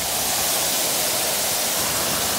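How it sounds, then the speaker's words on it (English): A waterfall at Hug Point on the Oregon coast gives a steady, dense rushing roar of falling water. The hiss is continuous and fills the scene, with no voices. "There's the waterfall."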